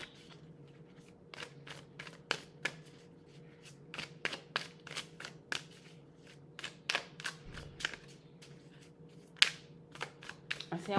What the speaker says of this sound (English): Let's see if we can shuffle this up a little bit.